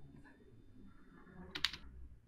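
A computer keyboard being typed and clicked, quiet scattered taps followed by a sharper cluster of clicks late on, over a low background hum.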